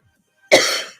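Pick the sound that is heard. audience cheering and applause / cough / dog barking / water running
cough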